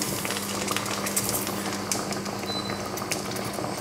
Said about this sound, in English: Now it's just boiling still at the moment